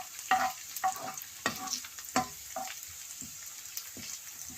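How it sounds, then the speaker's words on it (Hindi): Garlic fries in oil over a low flame with a soft, steady sizzle, while a spoon clinks and scrapes against the pan in irregular stirring strokes, close by. "लहसुन को 20 से 30 सेकंड के लिए फ्राई करना है और फ्लेम हमने लो रखना है।"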